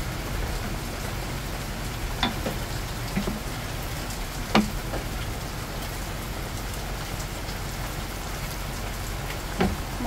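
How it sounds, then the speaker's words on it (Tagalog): Steady rain falls outside, a soft continuous patter on surfaces with occasional louder drips, fairly faint and distant, with no one talking. "Maulan ngayon"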